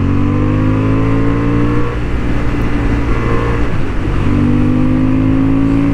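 A Honda Hornet 750 motorcycle riding on a racing track in sport mode, a loud continuous engine drone with steady tonal harmonics that dips briefly then rises again, close and dominant throughout.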